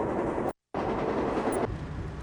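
A train passes on the tracks in Elkhart, Indiana, a loud, close roar of rolling wagons and rattling wheels, broken by a brief sharp cut in the sound.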